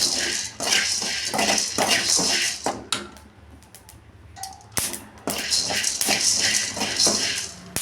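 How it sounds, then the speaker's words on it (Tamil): Black peppercorns crackle and pop in a hot pan, sounding as dense bursts of sharp crackling close by, with a brief quieter lull in the middle before the popping picks up again. "ஒரிஜினல் மிளகு பார்த்திங்கன்னா இப்படி தான் சவுண்டு கிடைக்கும்"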